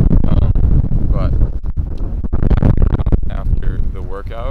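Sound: strong wind blowing on microphone

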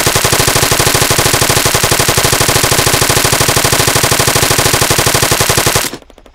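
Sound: machine gun fire in video game

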